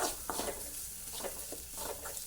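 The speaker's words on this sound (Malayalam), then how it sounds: "അപ്പോൾ നാളികേരം ചേർത്ത് കൊടുത്തുകൊണ്ട് ഒന്ന് മൂപ്പിച്ചിരുത്തുക" Grated coconut being stirred as it roasts in a pan, with soft irregular scrapes and a faint sizzle, quiet throughout.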